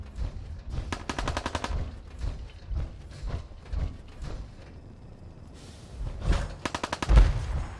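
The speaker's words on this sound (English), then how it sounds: "We heard some gunfire." Raiders fire guns in the video game Fallout 4, sending rapid automatic bursts of gunfire along with single shots and mechanical clicks. The bursts come in clusters at a moderate distance and sit under a low game ambience without speech.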